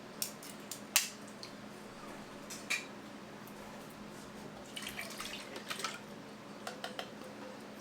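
A can of mango slices, 15.5 ounces, opened by hand with a can opener, faint clicks and scraping metal ticks spread unevenly across a quiet background.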